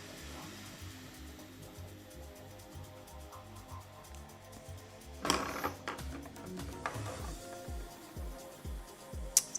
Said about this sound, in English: Sometimes the noises the 3D printer makes like freaks me out.